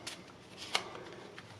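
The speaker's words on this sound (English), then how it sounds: "you shuffle the deck again" Playing cards riffling in an overhand shuffle during a card trick, a few soft papery bursts with one sharper flick near the middle, close and quiet with no voice.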